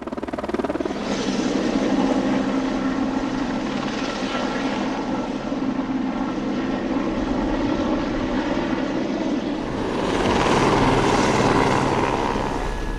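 A helicopter hovers close by, its rotor thumping and engine droning steadily, swelling louder toward the end.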